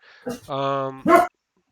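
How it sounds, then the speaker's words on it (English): A dog barking, heard as a few short close yips and a drawn-out whining bark in quick succession, then silence. "I heard dog"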